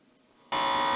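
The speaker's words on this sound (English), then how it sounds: "Kindly get ready with your buzzers for the next question." Quiz show contestant buzzer in a televised competition, a sudden loud harsh buzz cutting in after near silence and holding steadily to the end.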